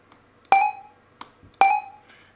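Short synthesized beeps from a JSFXR sound generator repeat twice, each a sharp electronic blip with a brief falling tail and a few small clicks between, clear and alone.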